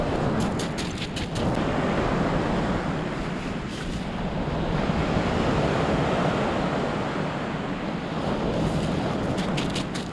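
Steady surf washes around someone wading into the sea to go fishing, a continuous loud rush of waves with wind buffeting the microphone and brief ticking clicks near the start and end; no one speaks.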